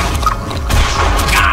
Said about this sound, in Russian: а ну-ка гранату брошу